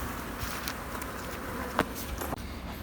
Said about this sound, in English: All these bees done found the queen.